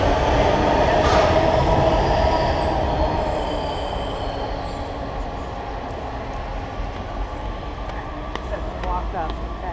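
WMATA Rohr railcar 1255 running on the Red Line metro from Shady Grove toward Metro Center, heard from on board: a loud, steady rolling roar with squealing wheels, easing slightly in volume midway, with occasional faint clicks.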